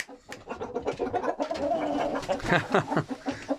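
A hen and a rooster cluck close by in short, uneven bursts, growing busier toward the end.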